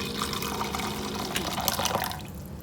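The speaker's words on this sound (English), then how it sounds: "We're going to add some hot water." Hot water pours into a bowl of dried stock in a home kitchen, a steady splashing, gurgling stream heard close up that runs for a couple of seconds and then tapers off.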